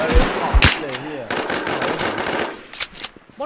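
Rapid bursts of gunfire crack out in the Infestation video game, close and loud machine-gun style shots in quick clusters, with people talking in the background between volleys.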